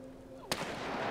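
A single sharp, loud gunshot cracks out partway through, over a steady low background hum in the war survival game This War of Mine.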